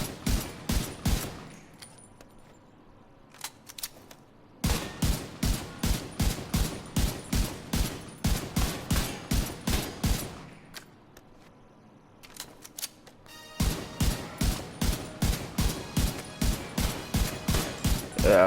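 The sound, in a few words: M1A rifle gunfire in Division 2 video game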